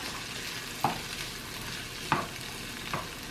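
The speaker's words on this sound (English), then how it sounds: "And then this is when you can add your onions." Onions sizzling in a pan, a steady frying hiss broken by a few sharp clinks and scrapes of stirring.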